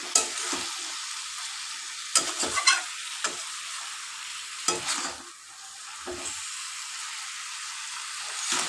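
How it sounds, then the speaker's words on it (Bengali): Onions sizzling steadily in a frying pan for a panch phoron chicken dish, with scraping stirs and clinks of a spatula at close range, no talk. "দেখুন পেঁয়াজটা ট্রান্সপারেন্ট হয়ে এসছে"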